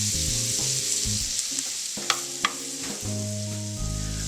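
Garlic fries in butter with a bright, continuous sizzle, close up, a couple of brief crackles rising above it, while low music plays underneath throughout.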